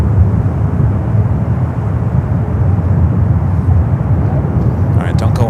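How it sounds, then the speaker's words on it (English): Flair Airlines Boeing 737 MAX 8 airliner at San Francisco airport, a steady broad engine roar throughout, fairly loud, with a voice talking over it near the end. "Next Bravo is a Flare 737 MAX 8."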